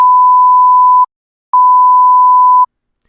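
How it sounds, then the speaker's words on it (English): Two steady electronic beeps at one pitch, each about a second long, separated by a short silence; clean and loud with nothing else present. "If you hear two beeps,"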